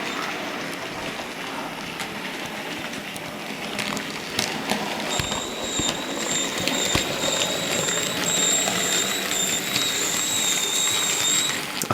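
A weathered model Pannier tank locomotive runs on a layout, its mechanism whirring and ticking steadily, while a high thin squeak from a front wheel enters partway through and persists in wavering tones.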